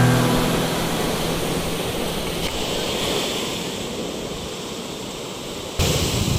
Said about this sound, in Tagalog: Ganda ng tunog ng dagat to.